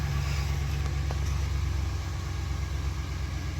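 A Dodge Hemi V8 engine idles steadily after starting, a deep continuous low rumble held at an even level throughout with no voices.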